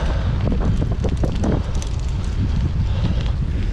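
Wind buffeting a microphone while cycling outdoors on a cold upland road, a loud continuous rumbling roar with gusty surges, no talk.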